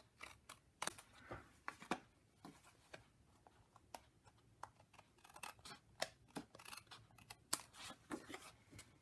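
Scissors trim the edges of a paper card, quiet crisp snips coming in irregular quick runs with short pauses, close by and alone.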